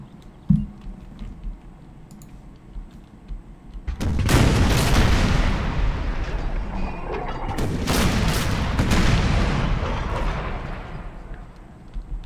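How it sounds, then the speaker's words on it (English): Massed cannon artillery fires in an Empire: Total War battle, a loud rumbling volley of booms rolling on for several seconds with a second heavy wave, no talk over it. "first volley of fire by the cannons, the battle had begun"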